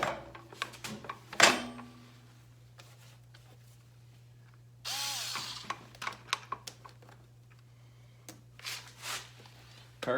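Metal clamps on the carburetors of a 1983 Yamaha XJ900 Seca being worked loose by hand, scattered clicks, scrapes and knocks of tools and parts over a steady low hum, with a brief hiss midway.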